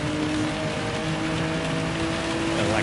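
Steady rain hissing and pattering on a surface in a racing game, dense and unbroken for the whole stretch, with a faint low hum beneath it and no talk.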